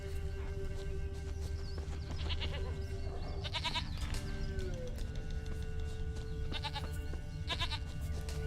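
A goat bleats in Witcher 3's Velen region, several short wavering bleats in separate bursts over a steady ambient game hum and tonal background drone.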